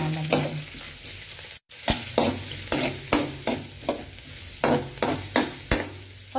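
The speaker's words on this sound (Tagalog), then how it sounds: "Nagigisa ko, una nilalagay ko talaga yung sibuyas." Onion sizzling as it is sautéed in a pan, with a steady frying hiss broken by regular clattering stirs, close and alone with no talk.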